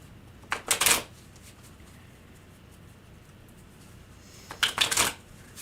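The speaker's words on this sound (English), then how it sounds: "I always shuffle 3 times." Tarot cards riffle-shuffled up close in two brief bursts, one near the start and one near the end, separated by a quiet pause and with no talk.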